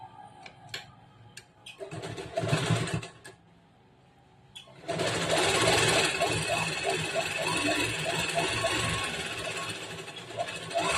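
A sewing machine stitches a folded side edge of a princess-cut, boat-neck blouse, running in steady rhythmic bursts close by after a brief pause, with a voice talking over parts of it.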